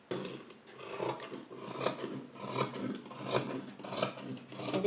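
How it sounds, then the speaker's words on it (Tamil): Scissors cutting through blouse fabric, a series of close, crisp snipping and sliding cuts in an uneven rhythm, quiet and with no talk. "இப்போ நம்ம ஃபுல்லாக வந்து கட் பண்ணிக்கலாம்."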